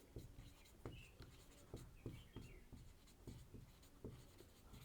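A pen scratches briskly across a board or paper while a class 12 physics lesson on electric charges is written out, making quick, irregular strokes and taps at close range in a quiet room.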